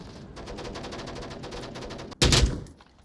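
A rapid stream of distant gunfire crackles steadily, then one loud close shot bursts out and fades, in the VR shooter game Onward during a competitive match.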